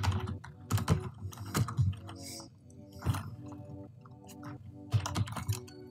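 Code being typed on a computer keyboard for a C# program, irregular clusters of crisp nearby keystrokes with short gaps and soft background hum.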